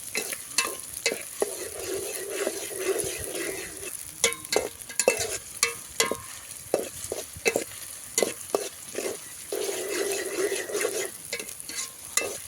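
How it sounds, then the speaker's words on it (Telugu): Chopped onions stir-fried in oil until golden for a village-style country chicken curry cooked outdoors in a mango grove: a steady sizzle broken by repeated sharp scraping strokes of a spatula against the pan, close and fairly loud, no voices. "ఎర్రగడ్డలు గోల్డ్ కలర్లో వచ్చిందాక మనం అట్లాగే జంబ్లింగ్ చేసుకుందాం"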